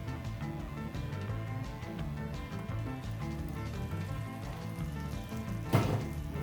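Sandwich bread grilling in a pan with cheese, bacon, egg and mushroom gives a steady, close sizzle and frying crackle throughout, with a brief louder burst near the end.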